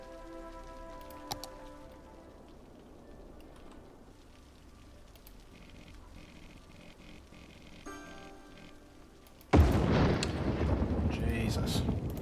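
Rain falls during a Cities Skylines game. A faint hiss comes first, then a sudden loud wash of heavy downpour takes over for the last few seconds.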